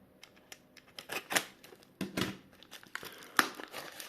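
Paper envelope from a parcel being opened and handled, a run of crisp crinkling, tearing and rustling bursts with sharper snaps near the end, close by and with no talking.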